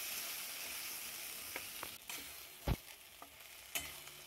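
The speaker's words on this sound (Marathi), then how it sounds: "छान तेल सुटेपर्यंत याला परतून घ्यायचं" Cluster bean curry with ground masala paste sautés in oil in a pan, a steady soft sizzle with several sharp scrapes and knocks of a stirring spoon, close and moderately quiet.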